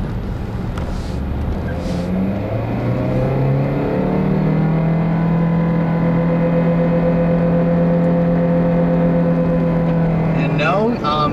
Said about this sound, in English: That sound you're hearing is not the transmission slipping